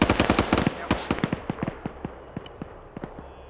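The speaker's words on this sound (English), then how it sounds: "Just follow the gunshots, guys." Rapid bursts of automatic gunfire crack out in a military shooter game, a dense volley that thins into spaced single shots and fades toward the end.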